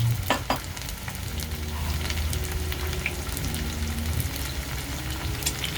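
Boneless torsilyo fish frying in hot oil, a steady close sizzle and crackle running the whole time with a few sharper pops and spatters near the start, and no talking.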